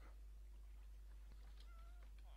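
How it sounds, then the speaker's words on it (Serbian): A soft Minecraft cat mew in a survival-game world, a single faint, brief call near the end over low steady background hum. "Tako, mačka mi se čuje neka."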